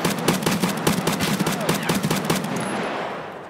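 Rapid automatic gunfire from a weapon in the shooter game Escape From Tarkov, a dense burst of loud, closely spaced shots that rattles on for about two and a half seconds before cutting off into a fading tail.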